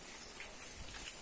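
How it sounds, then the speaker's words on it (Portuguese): Steady rain falls at the foot of a mountain range in the dry backcountry, a dense, even hiss of drops hitting surfaces with a few louder nearby splashes, no voices. "o clima maravilhoso quando chove aqui ao pé da serra"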